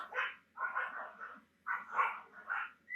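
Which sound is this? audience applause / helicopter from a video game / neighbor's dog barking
neighbor's dog barking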